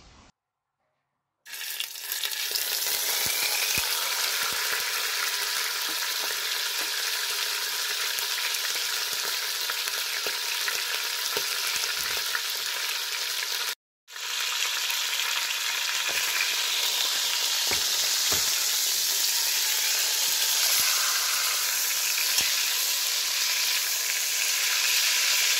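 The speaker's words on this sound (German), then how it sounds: "Dann brate ich das Fleisch in heißem Öl von allen Seiten kräftig an." Beef roast searing hard in hot oil for a Bavarian-French braise, giving a loud, steady sizzle that starts after a quiet moment, breaks off briefly midway and then returns, with faint stirring scrapes.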